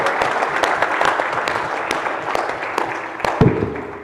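Audience applause after a panel session at a KPMG conference, a steady mass of clapping hands that holds for several seconds and swells briefly near the end.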